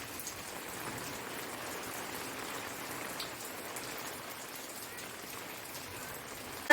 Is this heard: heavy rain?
yes